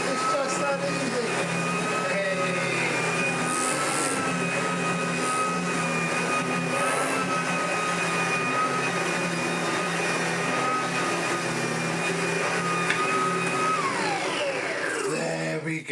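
A Sebo BP60 cordless upright commercial vacuum runs steadily on a rug, its close, loud motor whine holding a constant pitch throughout with slight shifts as the head moves; a voice talks faintly beneath it.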